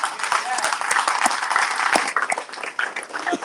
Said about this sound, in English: if y'all want to give him a hand clap, I would love that